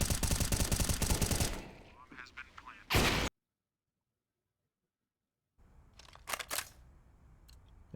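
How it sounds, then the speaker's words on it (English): USP pistol fire in a Counter-Strike match on the Overpass map, a loud burst of shots at first, then a dead silent gap, then sparse sharp shots and game noises, with a commentator's voice faintly underneath. "it's just going to be pistols, likely USPs."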